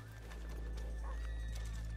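A horse in the video game Red Dead Redemption 2 gives a short whinny over steady clip-clop hooves and a constant low hum, close and fairly quiet.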